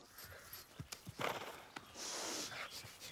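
Horse hooves clip-clopping in a short, uneven run of knocks, moderately close, with a brief snort-like rush and some background noise; a horse is being ridden.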